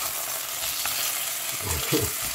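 Carrots sizzle steadily in a hot pan while browning for osso buco, a loud continuous frying hiss with a few brief stirring scrapes near the end, no talk.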